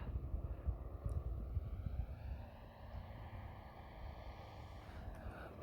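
An Extreme Flight Extra 300 giant-scale RC aerobatic plane with a DA70 gas engine running a little above idle, a faint steady drone with a slowly shifting pitch heard from a distance outdoors.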